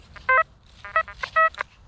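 Metal detector signal beeps during a field dig for wartime relics, a few short tonal electronic bursts coming in an irregular pattern, the loudest near the middle of the stretch, with no talk over them.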